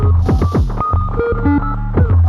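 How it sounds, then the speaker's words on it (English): Bucket brigade delay producing long-delay artifacts: throbbing, warbling synthetic tones with repeating pitched notes and murky low hum, no voice present. "we have a very, very long delay, and of course, being a bucket brigade, it introduces a lot of artifacts and weird sound"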